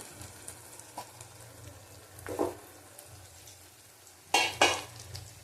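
Prawns sautéing in a pan with raisin and cashew paste make a soft, steady sizzle broken by several clanking stirs of a utensil against the pan, the loudest pair coming near the end.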